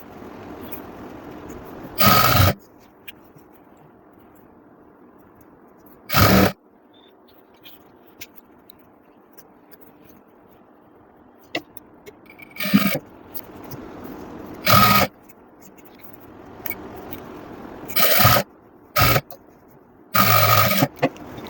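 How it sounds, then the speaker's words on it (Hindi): A sewing machine stitching a pant, running in short loud mechanical bursts of a second or so, about seven times with quiet pauses between them; no talking. "ये देखो, अब इसमें हम सिलाई लगा लेते हैं।"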